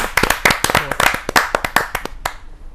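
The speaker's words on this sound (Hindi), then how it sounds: "जोरदार तालियों के साथ" A small audience at a Hindi poetry gathering gives a few seconds of distinct, fairly close clapping that slows and thins to scattered claps before stopping.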